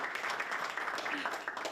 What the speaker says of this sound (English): Those are the claps in the room.